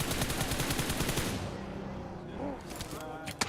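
Rapid automatic gunfire in PUBG Mobile during an esports match, a loud dense burst of repeated shots that breaks off after about a second and a half, followed by scattered fainter shots and a sharp single crack near the end.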